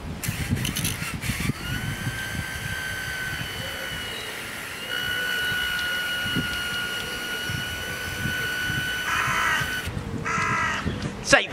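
A water jet spins a Pelton wheel fitted to a converted motor generator, giving a steady high whine that holds throughout, with splashing water and clatter underneath.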